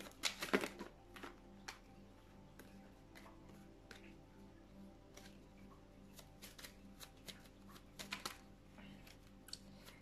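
Tarot cards are shuffled by hand in quiet, close crisp riffles and soft flicks, with a louder cluster near the start and scattered taps afterward.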